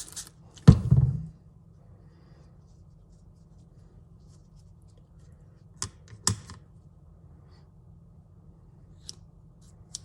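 Freshly sharpened scissors make a cutting test: one crisp snip with a short crunch of material, followed by two fainter clicks of the blades a few seconds later in a quiet room.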